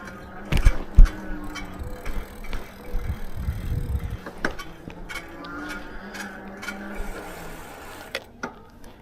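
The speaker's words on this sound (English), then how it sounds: "Something scraping down there." Riding a Velotric Discover 2 commuter e-bike, a faint intermittent scraping from down near the wheels and brakes runs under road and tyre noise, with a few sharper knocks and clicks mixed in.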